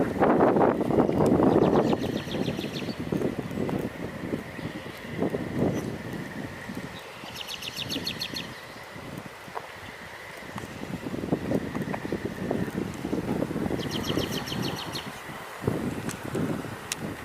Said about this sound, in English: Oh, that's more like wind. Light wind, but wind.